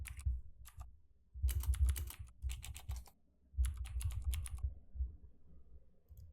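Keys clatter on a computer keyboard as C++ code is entered, in quick close bursts of clicks separated by short pauses, with no one talking.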